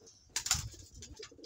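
Pigeons coo softly in a short burst at a fancier's loft, a faint low call with a brief scratchy flutter at the start, heard close and alone without talk.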